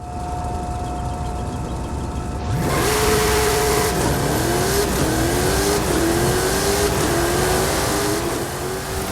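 Funko F9 car accelerating in a racing video game, a loud steady engine drone rising in repeated pitch sweeps as the car shifts up through the gears, with no talking.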